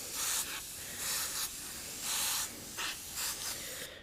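An airbrush sprays paint onto a chain, hissing in about six short bursts of one-half to one second, separated by brief pauses and set against a quiet room.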